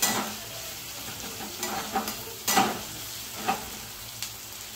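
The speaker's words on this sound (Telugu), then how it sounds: "లైట్గా గోల్డెన్ కలర్ వచ్చేదాకా మనం ఫ్రై చేసుకోవాలన్నాం కదా" Onion frying in hot oil with curry leaves over high flame for an egg curry, with a steady sizzle and a few scraping stirs of a spoon, close and with no voices.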